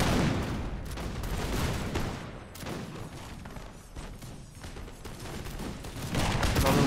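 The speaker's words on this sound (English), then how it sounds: "Guys are obviously trading shots with the enemy 3rd Battalion." Musket volleys between line battalions in the Napoleonic: Total War 3 mod's Battle of Montebello, a dense, continuous crackle of massed shots rolling on with some distant booms mixed in.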